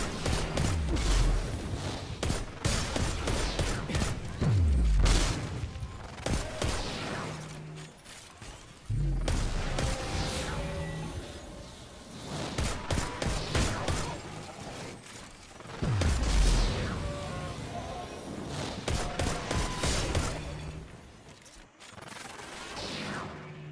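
Gunfire from a fight against hobgoblins and goblins in the Destiny video game, with repeated bursts of shots and heavy booming impacts recurring every few seconds among mechanical game noises, loud and close.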